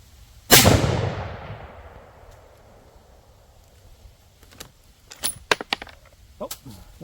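A CZ 600 Alpha rifle chambered in 6.5 PRC fires Hornady Match ammunition outdoors, one loud sharp shot with a long rolling echo tail, followed by a scatter of fainter clicks and clatter.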